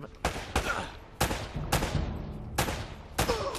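Gunfire rings out in Uncharted: Drake's Fortune, six sharp, loud shots spaced about half a second apart, each one followed by a short echoing tail.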